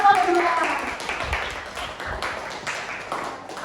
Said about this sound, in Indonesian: Tepuk tangan untuk kelompok dua.